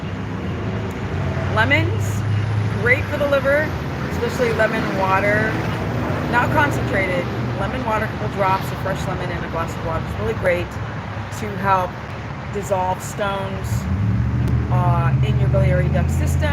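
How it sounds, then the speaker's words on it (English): Steady road traffic rumbles underneath, swelling louder at the start and end, while someone talks continuously in the foreground. "I can't hear you, there's too much traffic."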